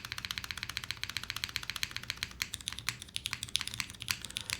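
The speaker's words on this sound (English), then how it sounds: "What switch is that? I've never heard such a scratchy switch. These are Vint Blacks." A custom patinaed Unikorn mechanical keyboard with scratchy Vint Black switches is typed on in a quick, even clatter of close, crisp keystrokes, alone and fairly quiet.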